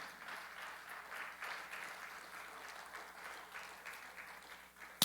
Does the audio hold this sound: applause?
yes